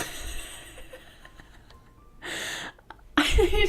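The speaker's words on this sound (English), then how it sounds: "I sneezed and my headphones fell over." A single sharp sneeze bursts out close by after a quieter stretch, followed by a rough, noisy breath or rustle.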